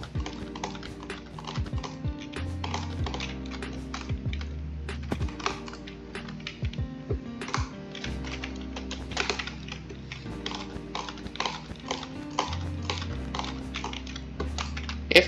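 Fast, steady typing on a computer keyboard the player calls cheap and made in China, close and clattery with dense irregular keystrokes, a low tonal game backdrop running beneath.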